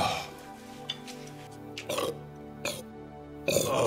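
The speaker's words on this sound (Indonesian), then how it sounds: "dia malah ngasih sendawa." A man lets out a rude burp at a meal in a dramatic film, short throaty bursts set against a soft sustained music bed.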